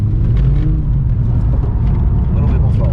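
Ford Falcon engine roaring steadily while drifting in tandem with another car, a loud continuous low rumble with tyre and exhaust noise throughout.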